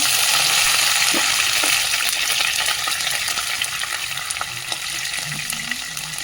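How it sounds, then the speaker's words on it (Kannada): Steady, loud sizzling of green chilies and curry leaves frying in hot oil for a tempering, with a few faint clicks of stirring, no voices. "ಈಗ ಒಂದು ಹದದಲ್ಲಿ ಒಗ್ಗರಣೆ ತಯಾರಾಗಿದೆ ಈಗ ನಾವು ಅದಕ್ಕೆ ಹಸಿಮೆಣಸಿನಕಾಯಿ ಮತ್ತು ಕರಿಬೇವನ್ನು ಸೇರಿಸ್ಕೊಳ್ಳೋಣ"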